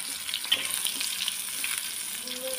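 Tofu sizzles and crackles steadily in hot oil, a close, continuous frying hiss with occasional pops.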